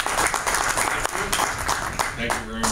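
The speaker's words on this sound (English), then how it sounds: "Let's give a big applause for Joe" A luncheon audience applauds, a dense, steady wash of many hands clapping for close to three seconds, with a voice briefly heard toward the end.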